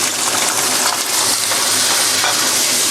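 Fatty salted pork belly fries in hot oil in a pan, a loud, steady crackling sizzle with small pops close by and no voices.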